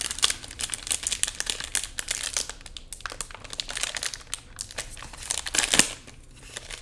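A Donruss football trading card pack wrapper ripped and crinkled open by hand, a close, loud run of crackling foil tears and rustles with no talk.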